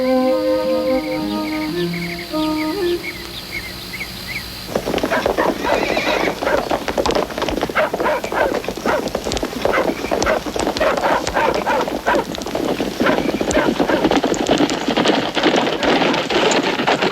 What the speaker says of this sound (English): These horses are for you, Many Scalps.